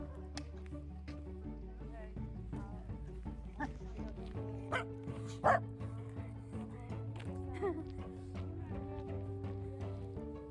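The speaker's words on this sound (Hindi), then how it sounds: "कुत्ता तो मुझे देख के भौंक रहा है" A dog barks at a passer-by in a small park or garden in Sliač, Slovakia, its yips and bow-wows coming in short bursts under steady background noise while a person talks nearby.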